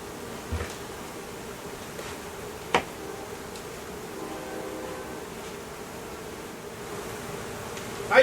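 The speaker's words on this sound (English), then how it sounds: "Honeybees come in all shapes and sizes, and these are very large." Large honeybees swarming around a makeshift shed, heard as a steady, low insect drone filling the background, with a few faint knocks and clicks nearby and no talking.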